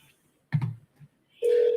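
Phone call placed on speakerphone, a steady electronic ring tone sounding loud and close near the end after a brief muffled handling noise and short pause.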